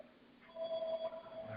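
A telephone rings faintly in a hearing room, one short electronic tone held steady for about half a second over quiet room noise.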